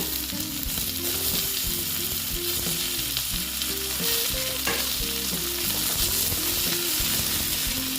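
Potatoes frying in oil in a pan for a potato, pointed gourd and soybean curry: a loud, continuous sizzle with occasional stirring scrapes and no talk.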